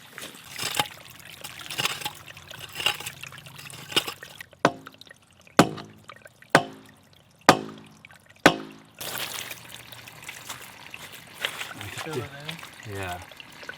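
Water from a developed natural spring on an off-grid homestead trickles and splashes steadily, with a few sharp knocks partway through, while people talk nearby.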